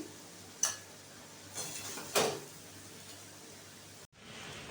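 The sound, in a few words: serving banana flower ghonto onto a plate with a spoon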